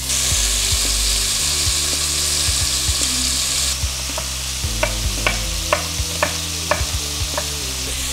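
Beef rolls brown in olive oil and butter in a pan, giving a steady loud sizzle with sharp clicks and scrapes of a utensil against the pan in the second half, and no talking.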